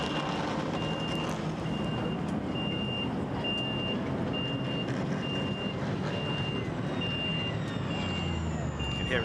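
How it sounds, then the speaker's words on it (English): Repeated high reversing warning beeps from snatch recovery vehicles clearing crashed cars off the Monza circuit during a GT4 European Series race, steady and evenly spaced above a constant rumble of truck engines and trackside noise. "can hear in the background the reversing of the snatch vehicles, the warning tones as the cars are dragged off the circuit"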